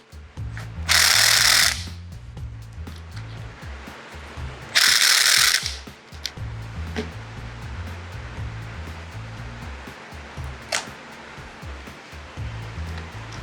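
A ratchet wrench clicks in two short, loud bursts while tightening the handlebar clamps on an SG400 motorcycle to final torque, over steady background hiss, followed by a few faint isolated clicks.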